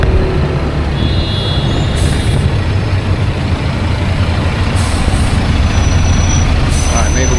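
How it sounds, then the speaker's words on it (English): A bus engine rumbles steadily in street traffic in Đà Nẵng, Vietnam. A few short hisses of air brakes cut in over the drone, and voices are faintly present. "We're gonna go right after this bus."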